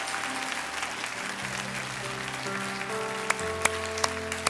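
A church congregation at a Sunday Easter worship service applauds together, a broad steady wash of clapping throughout, with a few sharper individual claps near the end and a sustained organ or keyboard tone underneath.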